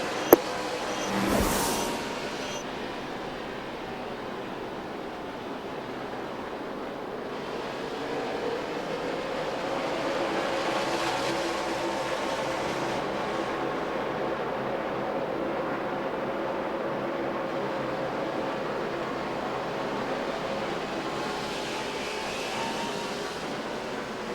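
NASCAR stock cars at Richmond during the 2007 Crown Royal 400 pull away on a green-flag restart, heard as a steady, fairly distant roar of engines that swells around the middle, with no talking.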